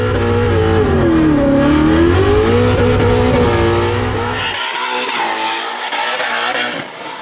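A Formula Drift car initiates a drift around the clipping cone at a skills battle, its engine roaring loud and close with rising and falling revs, then tire squeal and skidding take over as it slides through.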